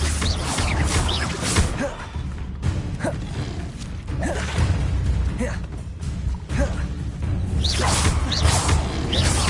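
Levioso levitation spells cast repeatedly in Hogwarts Legacy: several swishing, creaking magical whooshes with small pops rise and fall over a continuous game soundscape.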